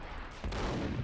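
A single sudden loud gunshot burst from the video game Max Payne cuts in midway through a short stretch of game noise, close and heavy.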